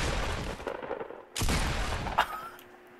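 Pump shotgun blasts from the video game Fortnite Battle Royale. A loud roaring burst opens the clip, and a second heavy boom hits midway, followed by a brief ringing tail.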